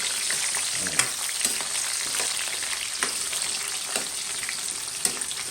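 Potatoes and carrots fry in hot oil with a loud, dense, continuous sizzle, broken by a few sharp pops and the light scrape of stirring, close up and without talk.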